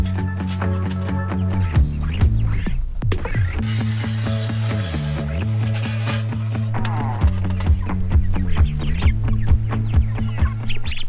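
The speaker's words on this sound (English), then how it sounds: "All of the Cornish cross chickens are out of the brooder and into the tractor" Cornish Cross chickens cluck and chirp steadily nearby in a chicken tractor over a low mechanical hum, with occasional clattering knocks.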